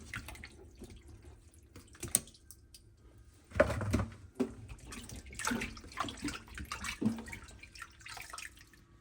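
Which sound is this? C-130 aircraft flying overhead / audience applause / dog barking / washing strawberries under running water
washing strawberries under running water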